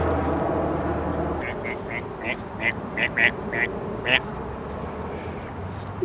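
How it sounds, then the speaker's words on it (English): A short run of about eight quick, bright quacks from ducks sounds out in an even rhythm over a steady, rumbling outdoor background during a cartoon-style mushroom-foraging outing. "we got some stunt ducks with us today"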